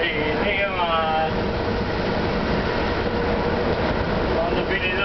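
Italian train 59106 hauled by E655 electric locomotive, a steady rolling rumble and hum of wagons throughout with squealing tonal sweeps early on, while a person talks over it.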